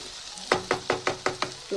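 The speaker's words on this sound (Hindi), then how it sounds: "तो साथ ही मैं इसमें डालूंगी ये लहसुन गार्लिक का पेस्ट। बिस्मिल्लाह, थोड़ा सा स्टिर करेंगे।" Garlic paste sizzling in a hot pan while a spoon stirs it, six sharp scraping knocks in a quick steady rhythm over a soft frying hiss, close up with no talking.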